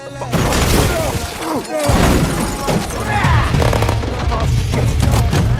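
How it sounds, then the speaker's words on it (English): Loud, dense bursts of gunfire aimed at a car, with crashing impacts, continuous and chaotic, close by with a brief lull partway through. "Gunfire erupts as the attackers open fire on their vehicle."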